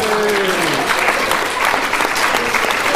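Audience applause at a live blogging challenge event, a steady dense clapping wash from many hands filling the whole stretch, with a few faint voices mixed in.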